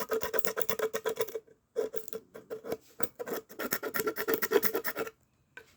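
Hard, rapid scratching on a thick glue-sealed styrofoam coating, loud rasping strokes in quick bursts with a couple of brief pauses, close up and without talk.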